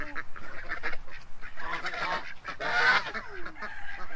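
A call duck on a farm honking like a goose: repeated nasal, brassy honks in quick irregular bursts, fairly close and loud, with no talking.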